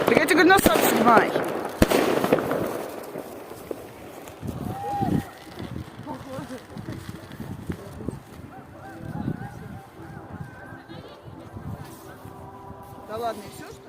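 A fireworks salute fires volleys of rapid cracks and bangs, loud near the start and then scattered pops over the rest, while people talk close by throughout.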